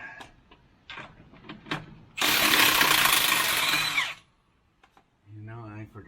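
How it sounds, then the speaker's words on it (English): An impact-style power tool spins out flywheel bolts on a Kenworth T680 truck in one loud, steady two-second burst, with metallic clinks of handled parts before it and someone talking afterward. "So now we can just pull the rest of our bolts out."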